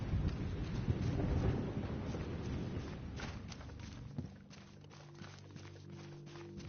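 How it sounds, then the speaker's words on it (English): Heavy rain and storm wind roar through a thunderstorm in the video game Division 2, loud and dense at first, then thinning to a softer patter with scattered distant rumbles and light footsteps. "This storm is making it rough."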